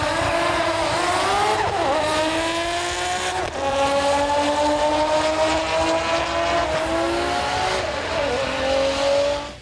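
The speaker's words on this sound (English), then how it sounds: "Single turbo class was once again taken out by Fei Hoot in the R33 Skyline GT-R" A Nissan R33 Skyline GT-R runs in the single turbo class at a drag racing event, its engine screaming loudly and climbing in pitch through several gear changes with brief dips between shifts.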